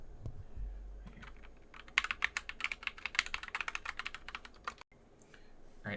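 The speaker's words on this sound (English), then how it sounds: "This is the Gatoron brown switches, which I like them because they're a lot quieter than the blue." Rapid typing on a 60% mechanical keyboard with Gateron Brown switches, close and crisp, a dense run of clacking keystrokes with no talk.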